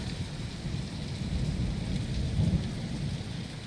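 Steady rain and rolling thunder during a nighttime storm along a walking route between Villambistia and Villafranca Montes de Oca, a continuous dense wash of rainfall with low rumbling swelling midway, no voices.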